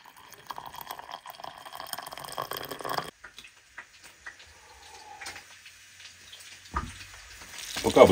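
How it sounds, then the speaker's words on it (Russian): Kupaty sausages frying in a pan give a soft, steady sizzle and crackle, fairly faint, with a few louder clatters and handling noises near the end. "Пока обжариваются купаты"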